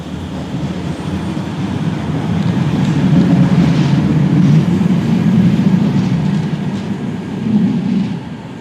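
A Manchester Metrolink tram on the Bury Line runs at a steady, loud rumble that swells and holds for several seconds at a stop such as Whitefield, with no voices over it.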